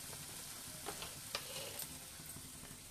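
Pasta going into a pan and being stirred: a quiet, steady sizzle with a few soft scraping clicks from the stirring, and no talking.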